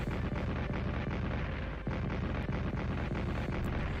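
Artillery fire in the Strategic Command WWI strategy game, a dense, continuous low rumble of distant explosions and booms with quick bursts layered together, fairly quiet and with no talking.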